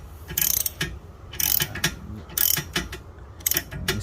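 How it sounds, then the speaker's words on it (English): Ratchet wrench tightening a plastic oil filter housing on a Ford Explorer ST, a series of about four short bursts of rapid clicking separated by brief pauses, fairly close and alone. "when do you use your ratchet. So keep tightening until it's tight"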